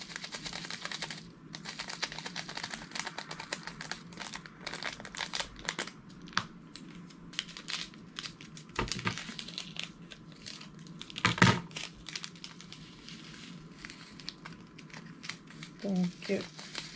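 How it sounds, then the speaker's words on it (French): Small plastic bags of diamond painting drills are snipped open at the corner, with faint crinkling and scattered sharp cuts and rustles, while someone talks quietly over much of it. "j'ai juste à couper le coin et puis à les mettre dans les cases"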